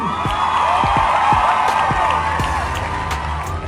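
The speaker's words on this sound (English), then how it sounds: "And a round of applause." Crowd cheering and whooping with light applause after a close golf pitch shot, a loud, continuous roar with dull low thumps throughout.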